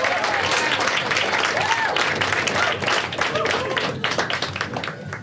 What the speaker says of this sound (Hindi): एक बार खुद के लिए ताली बजा सब लोग।